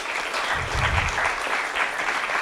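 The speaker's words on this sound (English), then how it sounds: "if we can give her a big round of applause" Brief burst of audience applause welcoming the MC at a startup masterclass event, steady dense clapping from a crowd, fairly loud and close.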